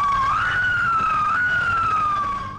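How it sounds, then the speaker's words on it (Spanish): Emergency vehicle siren wailing in one long sustained rising and falling tone, loud and fairly near, fading away at the end with no voices present. "El ulular de las sirenas era la señal de que ya salían."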